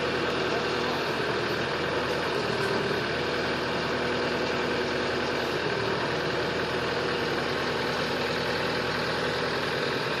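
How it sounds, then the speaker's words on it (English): An LS backhoe engine drones steadily and loudly while the machine digs out a stump, a continuous close rumble with constant vibration and no pauses. "He's using the backhoe end right now to dig that stump out."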